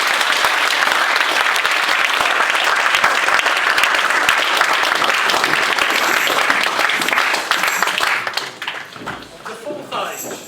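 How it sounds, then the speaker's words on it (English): An audience applauds as performers come on stage for a theatrical performance, a dense, steady wash of clapping from a crowd that holds for several seconds, then thins out and fades near the end. "So feel free to give them a round of applause."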